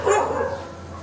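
Several dogs barking in a street in Vrindavan, a loud burst at first that carries on steadily in the background for the whole moment.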